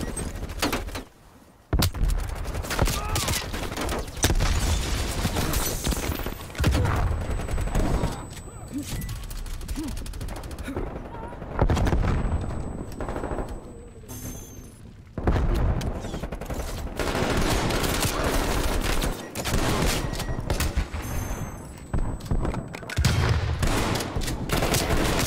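Hauer 77 shotgun blasts in Call of Duty Cold War, repeated loud shots over dense, constant gunfire and in-game action noise, with no talking.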